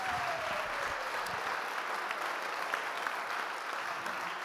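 Sustained applause from a crowd at a 50th birthday party, dense and even clapping that continues steadily without a break at a moderate, slightly distant level.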